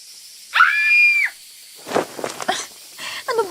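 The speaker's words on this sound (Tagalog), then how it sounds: "may narinig na naman akong sigaw mula sa isang babae" A woman screams in a dramatized Filipino aswang horror story, one loud, sustained, high-pitched shriek lasting under a second, followed by agitated, emotional talking.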